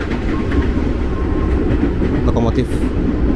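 Loud, continuous rumble of a long-distance train locomotive passing on the rails near Bekasi station, heard from close by, with faint tones briefly rising over the roar.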